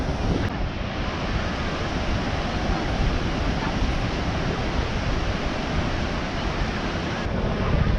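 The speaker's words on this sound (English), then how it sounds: "Uh oh, here comes a wave." Pacific Ocean surf at Mission Beach, San Diego, rolling in as a steady, close, loud wash of breaking waves with some wind buffeting the microphone, continuous throughout.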